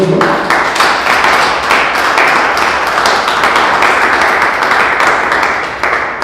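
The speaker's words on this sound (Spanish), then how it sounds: "Vamos a dar un fuerte aplauso a nuestro Dios" Steady, loud applause from a church congregation, continuous clapping sustained for several seconds before tapering slightly at the end.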